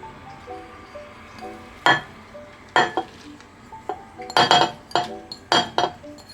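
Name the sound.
ingredients put into soup pot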